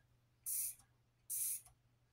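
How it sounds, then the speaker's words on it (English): Two quick hissing bursts of water from a spray bottle onto model scenery material, each lasting about a third of a second, close and distinct with a short pause between. "If I spray the wet water,"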